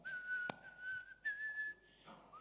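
A person whistles an old song alone, holding a clear steady melodic tone with small pitch shifts, interrupted briefly by a sharp knock near the start.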